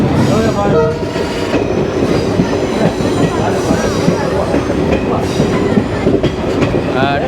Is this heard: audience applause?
no